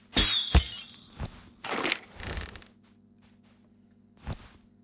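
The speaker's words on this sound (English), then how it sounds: "Glass shards!" Glass shatters in South Park: The Stick of Truth, with a sharp crash near the start followed by several scattered tinkling and breaking bursts, then a lone final smash after a short quiet gap.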